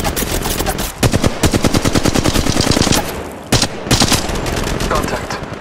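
Rapid bursts of automatic gunfire from Apex Legends Mobile gameplay, loud and close, with long rattling volleys broken by two brief pauses.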